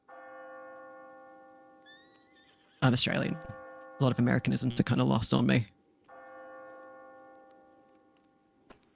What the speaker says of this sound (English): Yeah, I think that's the church bells.